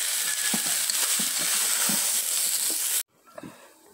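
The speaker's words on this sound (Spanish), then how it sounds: "Ya se está friendo todo bien bonito." Ranchero-style beef steak with garlic sizzles in a pan, a steady bright hiss broken by soft clinks and stirring taps, then cut off abruptly near the end, leaving quieter pan noises.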